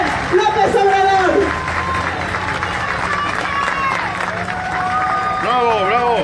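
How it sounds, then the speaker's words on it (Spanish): Rally crowd at an open-air political campaign event in Playas de Rosarito, Baja California, applauding and cheering in a steady wash of clapping and shouts, with a loud voice calling out over the crowd. "Un aplauso para todos ustedes"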